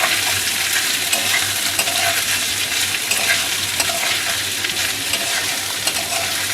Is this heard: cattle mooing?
no